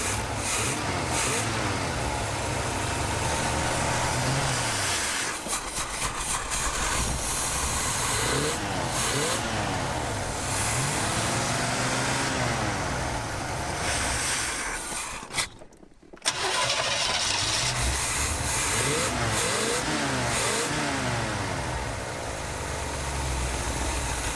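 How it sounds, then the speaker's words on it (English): A car with a rough idle, fresh off a trailer and in need of a tune-up, runs close and loud. Its uneven idle rises and falls through revs, and a brief dropout comes about two-thirds of the way through. "Doesn't want to idle very good."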